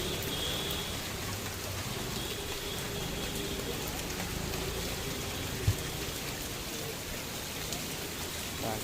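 Heavy monsoon rain pours steadily over a road in Odisha during a motorcycle trip, a dense continuous hiss at even loudness with one brief knock partway through.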